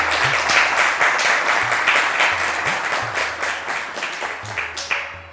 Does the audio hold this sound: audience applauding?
yes